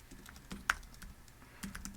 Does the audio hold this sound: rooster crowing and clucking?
no